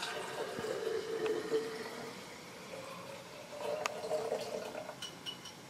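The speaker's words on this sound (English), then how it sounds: "And we're going to pour the milk" Raw sesame seed milk is poured into a mason jar in a kitchen, giving a quiet, continuous liquid trickle and gurgle with a few faint clinks.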